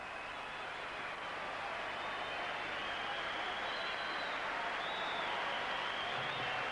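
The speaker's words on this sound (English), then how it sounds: "And the crowd really appreciating this young fella" A boxing arena crowd applauding young fighter Naseem Hamed in his bout against Chris Clarkson, a dense steady wash of clapping and cheering that holds loud and unbroken from start to finish.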